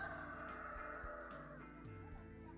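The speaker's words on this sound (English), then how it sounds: "it's kind of weird hearing roosters and horses and donkeys" Farm ambience from a game app: a rooster's crow and repeated hen-like clucks over a steady bed of background sound, fairly close and with no talking.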